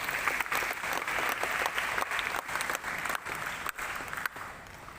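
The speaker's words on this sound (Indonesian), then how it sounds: "Aplaus untuk Anda semua." University students in an audience applauding at a campus event, steady dense clapping throughout, moderately loud and fading slightly at the end.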